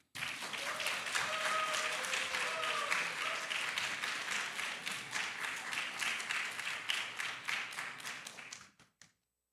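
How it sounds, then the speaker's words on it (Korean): Audience applause in a church worship service, welcoming someone to the front; steady, full clapping from a room of people that fades out near the end, with faint voices underneath. "나오실 때 저희가 큰 박수로 환영하도록 하겠습니다."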